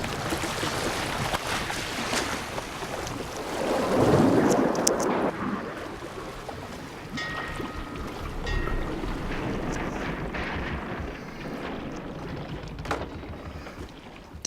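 A boat groans and roars as if tearing apart during a shark attack scene, a loud, dense rushing wash of water and wind that surges near the start and then settles into a steady churning rumble.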